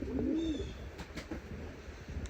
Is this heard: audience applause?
no